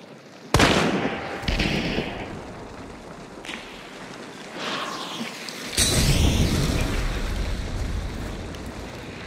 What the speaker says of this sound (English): He threw it right next to me when it exploded.